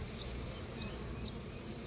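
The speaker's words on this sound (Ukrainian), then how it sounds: "Бджола літає." A honeybee hums steadily nearby in flight at an apiary in spring, a continuous low buzz against faint outdoor background noise.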